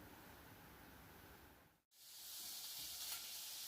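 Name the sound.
beef sizzling while frying in a pan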